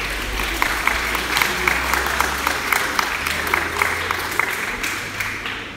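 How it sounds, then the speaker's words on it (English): School audience applause for parents at a high school music presentation night, a sustained, even clapping with individual sharp claps standing out over a low background hum. "A big round of applause for the parents."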